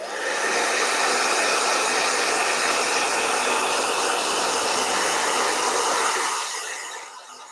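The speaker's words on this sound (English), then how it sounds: "Blow dryer." A blow dryer runs steadily at close range with a loud, even broadband whoosh for about six seconds, then begins to wind down near the end, used to dry a painting.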